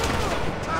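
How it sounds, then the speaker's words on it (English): Rapid bursts of gunfire in Grand Theft Auto Online, a dense, continuous crackle of shots filling the whole moment, loud and close, with voices mixed in. "Thanks for shooting at me."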